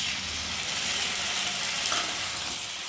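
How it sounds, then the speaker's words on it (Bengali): A paste of ground poppy seed and green chili hits hot oil in a frying pan, giving a steady, close hiss and sizzle that holds evenly throughout with faint scraping. "আর এখন আমি পোস্ত আর কাঁচা লঙ্কা বেটে নিয়েছি, সেটাকে এখন ঢেলে দেবো।"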